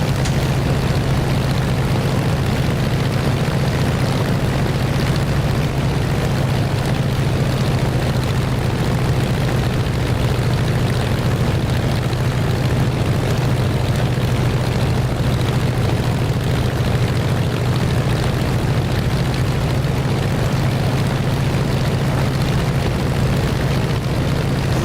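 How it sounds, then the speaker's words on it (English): A steady, droning aeroplane engine in the DCS flight simulator game hums loudly and continuously, with a strong low rumble that holds constant throughout. "I like the sound of it, it sounds like an aeroplane"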